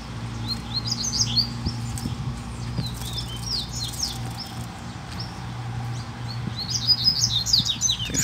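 Caged double-collared seedeaters (coleiros) give a series of bright, quick chirps and short song phrases, scattered throughout and clustering near the end, over a steady low hum.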